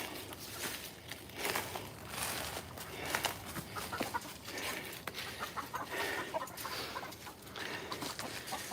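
Chickens cluck in scattered bursts around a farmyard with a big rooster among them, mid-distance and fairly soft, with occasional footsteps and outdoor rustle throughout.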